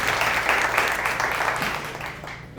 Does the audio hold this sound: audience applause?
yes